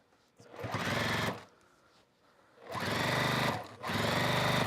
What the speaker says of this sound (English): I can't hear you while I'm sewing